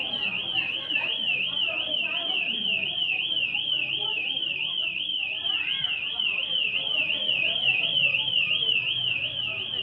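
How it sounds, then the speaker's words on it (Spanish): A warbling electronic alarm going off, a rapid continuous siren-like wail that stays loud and steady throughout, with faint voices and background noise underneath. "Disparó la alarma"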